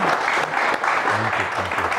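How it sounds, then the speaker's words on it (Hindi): Steady applause from an audience, a continuous dense clatter of clapping that holds at an even level throughout, with some faint voices mixed in. "एक बार तालियां बनती हैं इनके लिए।"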